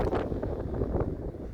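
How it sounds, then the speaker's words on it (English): Wind gusting across an exposed hilltop while a dog is out running, buffeting the microphone with a steady low roar and soft rises and falls, close and continuous with no voices. "See the wind up here?"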